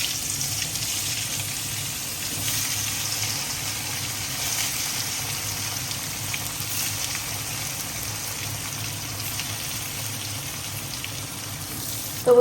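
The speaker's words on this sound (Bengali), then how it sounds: "এখন হলো গিয়ে বেগুনগুলা ভাজা নিতে।" Eggplant slices fry in oil, producing a steady, even hiss that holds at the same level throughout, with no stirring accents or talk.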